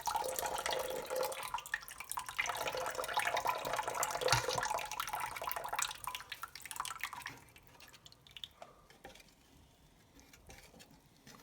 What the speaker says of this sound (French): le mélange à bouillir, on va ajouter le vinaigre, puis le 40 grammes d'eau qu'on a préparé